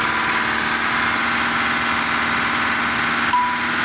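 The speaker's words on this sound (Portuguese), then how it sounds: "Olha o motor já que funciona redondo." A 2010 Mitsubishi Dakar diesel engine idling smoothly, a close, steady rumbling drone with an even rhythm and a faint brief ding near the end.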